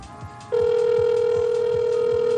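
Outgoing phone call ringback: after a brief low murmur, a loud steady electronic ring tone starts and holds continuously at close range.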